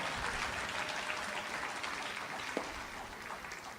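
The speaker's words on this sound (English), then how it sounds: "Can we have a huge round of applause for them all?" Applause from a conference audience thanking the day's speakers, a steady dense wash of clapping from many hands that fills the whole stretch at moderate level and eases slightly toward the end.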